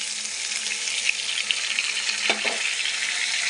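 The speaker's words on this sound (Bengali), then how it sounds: "আবার একটু কষিয়ে নেবো কষানো হবে" Ground spice paste, loosened with a splash of water, frying in a pan: a steady close sizzle with soft stirring scrapes and a few small pops, and no talking.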